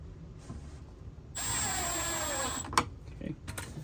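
A power drill driving screws while installing drawer slides whirs in one steady burst of just over a second, followed by a sharp clunk and some light handling noise.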